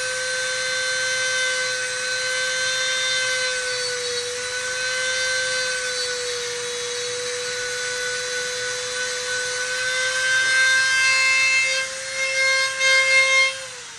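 A drill bores a hole through the rubber tread of an RC car tire, a steady high whine with strong harmonics running continuously for about fourteen seconds, close and loud, with no talking.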